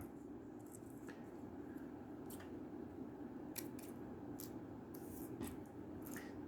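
Scissors cutting paper for a lotus-petal craft, trimming excess from the petals: a series of faint, crisp snips spread irregularly over a steady low background hum, with no speech.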